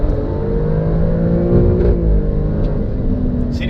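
Alfa Romeo Stelvio Quadrifoglio SUV with a 510 hp engine accelerating, a loud, steady close-up engine roar with rising harmonic tone and no pauses.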